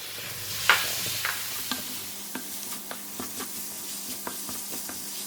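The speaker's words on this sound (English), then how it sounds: "Just keep stirring." Tomato is stirred in a wet pan for a spicy bitter gourd curry without coconut: repeated spatula scrapes and taps over a soft, steady sizzle, close and fairly quiet.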